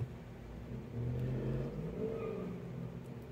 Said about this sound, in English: the car is still revving its engines and driving crazy